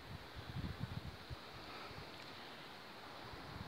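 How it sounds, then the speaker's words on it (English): Steady wind rushes and buffets the microphone, with low rumbling gusts near the start and a constant hiss underneath. "it's pretty windy here today"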